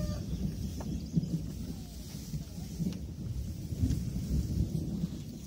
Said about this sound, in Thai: ฝนตกฟากนู้นฟ้าร้องครึ้ม